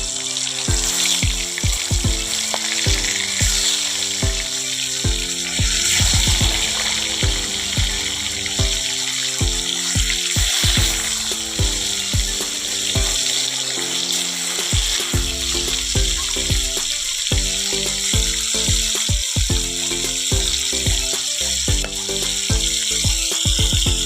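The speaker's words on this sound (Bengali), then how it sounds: "চলো মাছগুলো ভালো করে লাল করে ভেজে নিই।" Catfish (magur) frying in hot oil, a loud, steady crackling sizzle that continues throughout, with occasional clinks and stirring against the pan.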